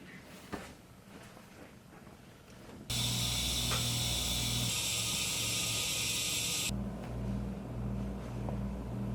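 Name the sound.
air leaking from a truck tire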